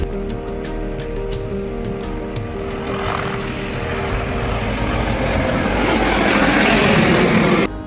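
A helicopter running loud and close on a helipad in Uttarakhand, serving the Dehradun to Gauchar route in Chamoli, beats its rotor in rapid regular thumps while the engine whine swells steadily louder before cutting off.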